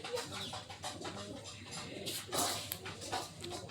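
Young pigeon chick giving soft, faint coos and small cheeping calls in short bursts, with brief scuffling noises in between.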